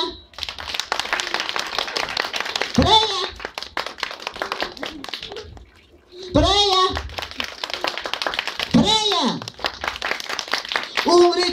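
Children and adults at a birthday party clap together to vote for a girl named Freya, the quick, rhythmic hand claps running beneath loud chanting of her name and excited talking.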